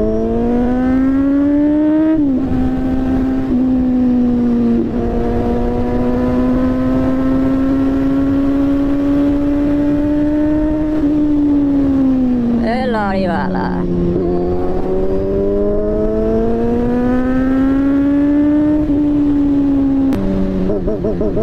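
A vehicle on a morning ride to a picnic speeds off, its engine droning loud and close, the pitch climbing, dipping, then climbing again over a long continuous stretch.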